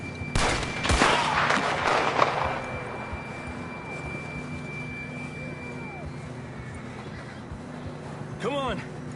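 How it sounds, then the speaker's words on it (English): Horse neighing in the video game Red Dead Redemption 2, heard as a brief loud whinny near the start amid game sounds and a steady tone, followed by quieter ambience and a short rising call near the end. "John was riding that horse when we left Blackwater"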